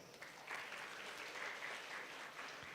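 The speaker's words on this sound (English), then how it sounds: "I want all of you to give them a big applause." Sustained applause from an audience at a college induction ceremony, a dense steady wash of many hands clapping that holds evenly from start to finish with no voices standing out.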